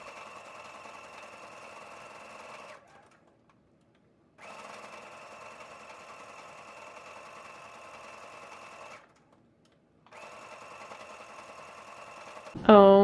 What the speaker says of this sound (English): now we'll go ahead and sew around the three edges over here